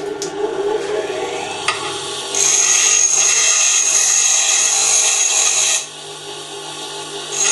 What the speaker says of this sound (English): What I'll do, I'll weld a nut on one end.